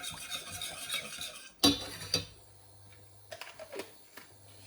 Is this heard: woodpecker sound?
no